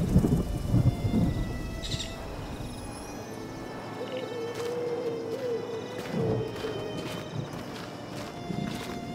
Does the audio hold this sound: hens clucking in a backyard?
no